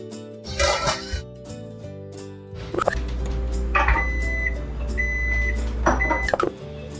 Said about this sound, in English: the timer went off and the processing is done